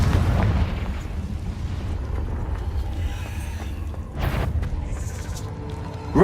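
A Confringo blasting spell from the Hogwarts Legacy video game: booming blasts with a rumbling tail under dense game combat noise, a second burst near the end.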